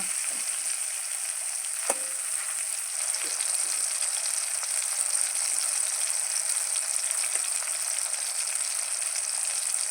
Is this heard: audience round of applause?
no